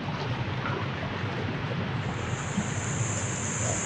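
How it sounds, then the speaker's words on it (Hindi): Strong water flows across a mountain road near Pyala Lake on the way to Naran and Babusar Top, a steady, dense roar of rushing water with wind, continuous throughout. "पानी का जो प्रेशर है वो बहुत ज़्यादा है"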